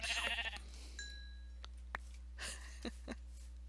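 Several short sheep bleats in a video game sound at intervals, thin and synthetic, alongside a few soft clicks and a steady low hum.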